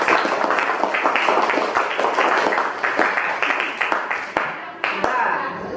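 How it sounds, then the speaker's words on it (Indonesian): Applause in a classroom after student groups present their discussion results, a fairly close patter of individual hand claps from a modest group that thins out toward the end. "Tepuk tangan untuk semua kelompok."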